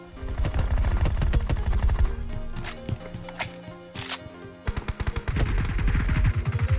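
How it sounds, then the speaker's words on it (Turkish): PUBG Mobile gunfire comes as close automatic bursts, a pause with a few sharp single cracks, then another rapid staccato volley, with no voices. "kale tarafından atış var haberiniz olsun"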